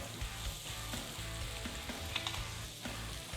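Cherry tomatoes frying in a pan alongside browning vegetables for a smoky veggie rice dish give a steady close sizzle with faint stirring clicks throughout.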